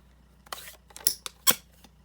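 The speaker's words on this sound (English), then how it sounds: "I'm just going to cut that out using the smallest die" Card being cut with the smallest die, heard as a few separate crisp cutting and snipping sounds close by, with short gaps between them.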